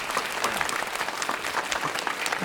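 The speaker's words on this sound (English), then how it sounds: "let's give him a round of applause" Audience applause for a speaker at a multiple sclerosis pain management program, many hands clapping steadily and fairly loud, with no talk over it.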